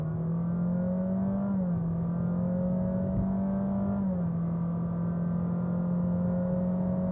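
A Honda Jazz Hybrid Crosstar pulling away under throttle, its engine giving a steady, smooth whirring hum that rises in pitch and then steps down briefly twice as it gains speed, heard from inside the cabin without talk.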